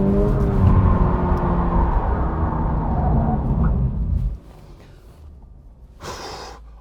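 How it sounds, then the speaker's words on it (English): Sports car accelerating hard down the road, a loud rising engine roar that cuts off abruptly after about four seconds, leaving quieter road noise and a brief whoosh. "when you accelerate, the car responds and actually fires you down the road"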